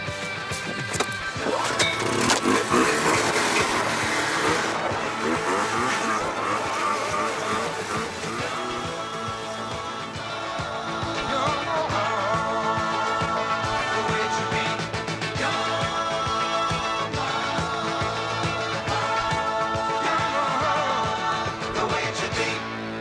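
A Yamaha two-stroke snowmobile ridden hard, its buzzing engine loud and continuous throughout, rising and falling slightly with the throttle and with no talking over it.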